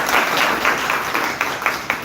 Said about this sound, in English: Please clap for Aryan.